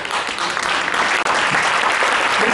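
Dense, steady applause from a concert audience at a Christmas choral performance fills the whole stretch, loud and close with no voices over it.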